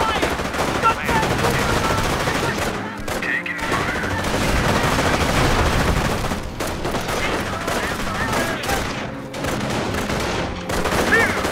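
Continuous machine-gun and rifle fire from the World War II strategy game Company of Heroes, a dense loud barrage of bursts running throughout with battlefield clamor and brief radio-style voices.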